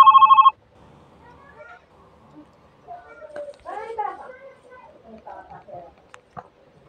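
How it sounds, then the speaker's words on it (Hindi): An old-style telephone ringtone plays as a short, loud burst of rapid ringing at the start, then cuts off as a voice begins talking over faint background sounds. "अब यहाँ पर देख सकते हैं ओल्ड टेलीफोन रिंगटोन्स"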